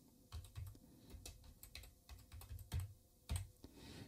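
Fingers type steadily on a computer keyboard, a close, quiet run of irregular key clicks and taps with a few heavier strokes, heard alone without speech.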